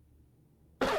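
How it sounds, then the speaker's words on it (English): A single loud, close cough bursts out suddenly after a near-silent stretch, harsh and breathy. "Sorry, I keep coughing in the mic"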